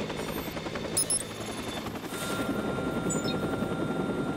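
Helicopter rotor in the video game Watch Dogs, a steady throbbing drone with faint gunfire-like pops and electronic chirps mixed in, continuous throughout at moderate level.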